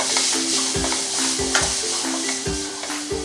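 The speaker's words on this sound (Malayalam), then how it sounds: "ഇപ്പോൾ 2 മിനിറ്റ് മീഡിയം ഫ്ലെയിമിലിട്ട് ഞാനിത് വഴറ്റിയെടുത്തു." Carrot pachadi mixture sautéing over a medium flame sizzles steadily while a spoon stirs and knocks against the pan in a regular rhythm, close and without voices.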